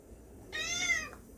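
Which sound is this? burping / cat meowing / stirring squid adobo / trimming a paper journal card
cat meowing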